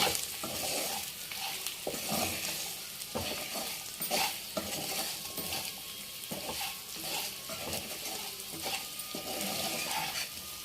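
Chili powder and masala frying in ghee for paneer dum biryani, a continuous sizzle under repeated scraping strokes of a spoon against the pan, close and steady throughout, with no voices.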